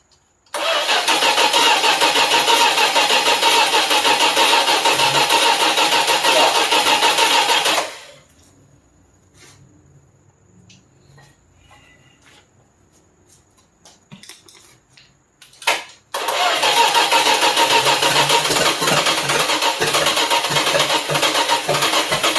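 A Slant Six car engine, started for the first time, cranks and roars to life, running loud and rough, cuts out into a quiet gap with faint clatter, then fires up again and keeps running.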